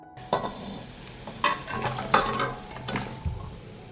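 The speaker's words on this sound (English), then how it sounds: "The marinade has boiled, and I put the pepper in the boiled marinade." Peppers simmering in boiling marinade with garlic, giving a steady bubbling sizzle broken by a few sharp clinks and stirring scrapes against the pot, close and moderately loud, no speech.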